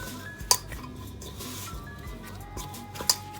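Kuboos batter of flour being mixed in a bowl, soft squishy stirring with faint scraping and two sharp clinks against the dish, quiet and close.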